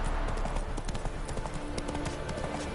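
Roach the horse trots in The Witcher 3, giving a steady, rapid clip-clop of hooves close by under a constant background wash.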